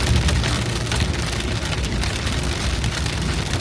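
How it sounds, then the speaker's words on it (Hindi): Heavy rain drums on a car during a road journey from Kashmir toward Vaishno Devi, a dense, loud, continuous roar of drops pattering on the roof and body with no pauses. "भाई साहब बहुत ही तेज बारिश है यार।"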